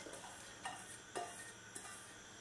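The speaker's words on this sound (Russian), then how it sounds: "Добавляем растительное масло. И отправляем сюда лук." Onion frying in vegetable oil in a heated pan for a borscht base gives a soft, steady sizzle that stays quiet throughout, broken by a few light clinks of a utensil against the pan.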